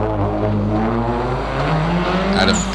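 A Subaru WRX tears up a hill climb course, its engine note loud and close, rising and shifting pitch under load across a short, continuous pass.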